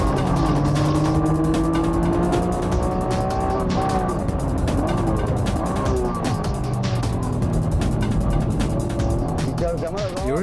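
A Honda NSX-R on slick tires races through the tight infield corners of a circuit, its engine note rising and falling with each gear change, loud and close, with a voice talking over it.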